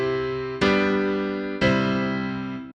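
Two sustained chords played one after another, a tonic then a dominant, each struck cleanly and left to ring and slowly decay, on a keyboard-like instrument with a steady, even attack.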